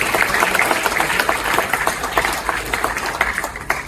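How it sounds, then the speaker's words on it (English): Audience applause at the Greatiean Prize 2026 awards ceremony after a performance, a dense, steady wash of many hands clapping at close-to-moderate distance that carries on throughout, with crowd ambience underneath. "Let's have another round of applause for our performance,"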